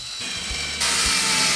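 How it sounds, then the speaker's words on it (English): Screws are power-driven through the top of a wooden door to close a gap, giving a close, steady motor whine that jumps noticeably louder partway through. "I'll screw in through the top."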